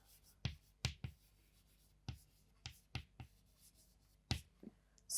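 Pen strokes on paper while oxidation states are written out by hand for a chemistry redox equation, heard as about a dozen quiet, close scratches in uneven bursts, with no talking.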